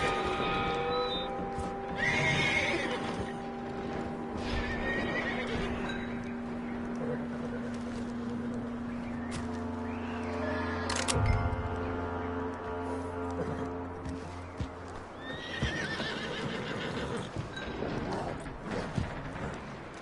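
A horse in the Red Dead Redemption 2 video game neighs and whinnies repeatedly with occasional hoofbeats, close and clear over a quiet in-game background.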